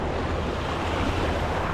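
Sea waves along a coastal zigzag road in Puerto produce a steady, loud roar of surf mixed with wind buffeting the microphone, with no voices.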